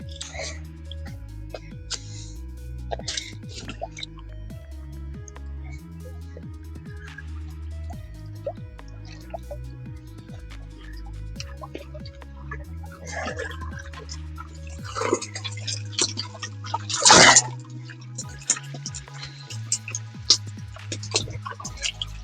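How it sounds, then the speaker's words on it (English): Water drips and splashes in scattered, light, close drops as fish are lifted out of a keepnet on a fishing day, with a soft steady hum beneath. "Let's get the fish out of the water and see what we got."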